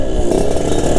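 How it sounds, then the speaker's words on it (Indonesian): A Yamaha RX King motorcycle fitted with a B2M racing exhaust revs in a brief, loud, raspy burst close to the listener. "kalau kita langsung main kocok gas RPM itu langsung ngisi ke atasnya"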